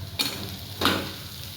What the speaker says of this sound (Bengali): এটাকে এবার 2 মিনিটের জন্য ব্রাউন করে নিব